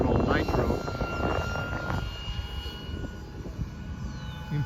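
A Vario model helicopter converted from nitro to electric power runs steadily with a whirring drone and a high tonal whine, while a person talks over it in the first two seconds.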